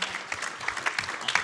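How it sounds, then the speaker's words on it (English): Audience at a speed debate during the AusCERT2017 conference applauding a debater: a short burst of quiet, distant clapping with scattered individual claps standing out against the room. "Give him a round of applause."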